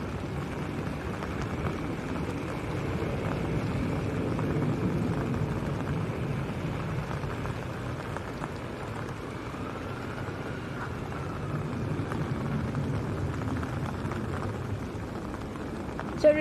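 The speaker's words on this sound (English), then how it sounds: "the Trans Air Portugal A320. This is going down to Lisbon." A Trans Air Portugal Airbus A320 departs Manchester Airport, a steady broad jet roar at a distance that holds even for the whole stretch, with no talking.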